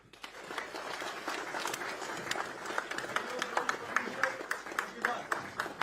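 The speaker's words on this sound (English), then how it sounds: "I want you to give them all a round of applause when I welcome them up" Audience at a fight launch press conference claps and cheers for a fighter being welcomed up, with applause building into a steady patter. A voice talks over it at the start.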